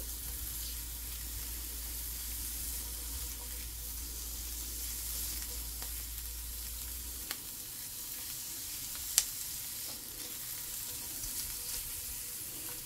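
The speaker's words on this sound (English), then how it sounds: "And saute that a little bit." Chopped onions sauté in a pan on the stovetop, giving a soft, steady sizzle with a faint low hum early on and a couple of small clicks or taps, quiet, no talking.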